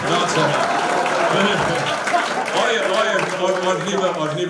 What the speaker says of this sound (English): Give this lady a big round of applause